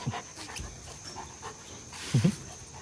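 A shop dog panting in short, quick, breathy bursts near the microphone, fairly faint, with a brief louder whimpering gasp near the end and no talking.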